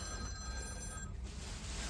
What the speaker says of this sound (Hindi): यहाँ फोन बजते रहते हैं